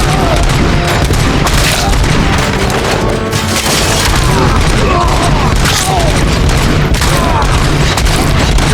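Police firing at suspects in the video game Robocop Rogue City, a dense, loud barrage of gunfire and booming impacts that runs without pause, with shouted voices mixed into the chaos.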